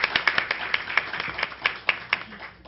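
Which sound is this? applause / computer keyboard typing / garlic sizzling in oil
applause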